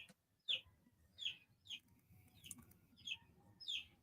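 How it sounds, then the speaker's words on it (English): Small backyard chickens cluck in a series of short, sharp calls, about six bursts spaced irregularly over a quiet background, moderately close and without talking. "can you guys hear my little chickens?"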